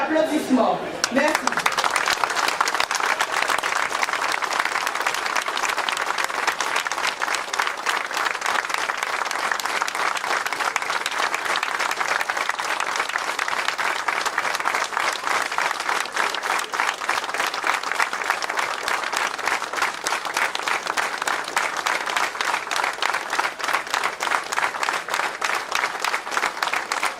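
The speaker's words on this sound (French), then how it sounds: "nous demandons nous tous qui là de bien vouloir observer en minute d'applaudissement" Crowd at a May Day gathering gives a long, sustained round of applause, dense even clapping continuing steadily for nearly half a minute after a brief voice at the start.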